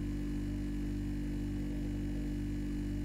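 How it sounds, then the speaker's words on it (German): Steady low electrical drone of a refrigerator running in a room, with strong layered low harmonics and a faint hiss, constant and unbroken throughout. "Oh, der Kühlschrank läuft im Hintergrund."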